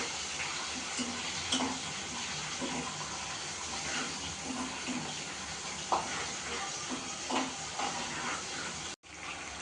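Curry leaves frying in oil in a pan give a steady, continuous sizzle, with occasional soft stirring clicks and scrapes close by and no voices.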